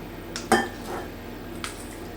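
A spoon scrapes and clinks against a bowl a few times while soft stuffing of salt, sage and onion is stirred, close up and fairly quiet.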